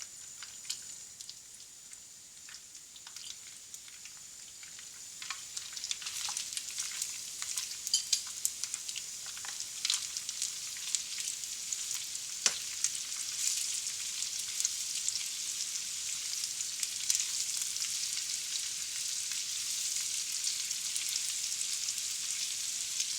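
Steady sizzling of meat frying in a pan as mushrooms are added, a continuous crackling hiss that builds slightly louder over time, with occasional faint clinks and no talking.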